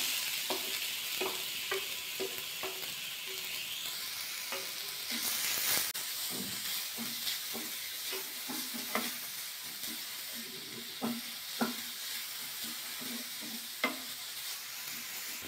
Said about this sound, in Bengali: গাজরটা একটু ভাজা করে নেব ঘি দিয়ে।